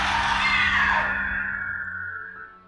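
An unseen creature shrieks in a night forest horror story, a single long, loud, piercing scream that trails off over a low droning hum, with no talking.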